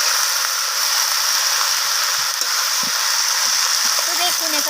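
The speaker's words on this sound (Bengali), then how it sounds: "শাক যেভাবে ভাজতে হয় সেভাবে একটু সময় নিয়ে এইভাবে নাড়াচাড়া করে" Fenugreek greens fry in a pan with a steady broadband sizzle as they are stirred. A few faint scraping clicks from the stirring come through, with no voice over the hiss.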